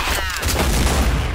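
Grenade explosion in Counter-Strike: Source, a loud, close, broadband blast with a rumbling tail lasting over a second, filling the brief moment.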